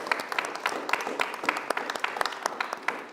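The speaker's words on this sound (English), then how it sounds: "Give yourselves a round of applause." Audience applause closing an in-person panel discussion series on politics, a steady patter of many hands clapping at moderate distance with no voices over it.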